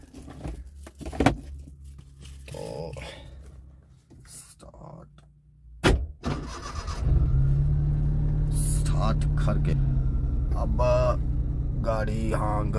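A modified Maruti 800 car engine cranks and catches at about six seconds, then settles into a steady, loud idle that runs to the end, with someone talking before and over it.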